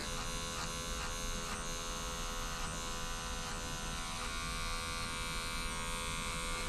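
Electric hair clippers buzz steadily while cutting a fade with the clipper-over-comb technique, a close, continuous motor hum with slight pulsing as the blades pass through hair.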